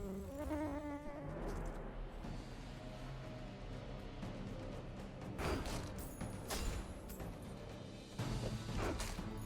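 Buzzing of the Giant Mosquito item in the video game The Bazaar: a sustained, whining insect drone mixed with game effects and occasional crashing impacts, fairly loud throughout with no speech.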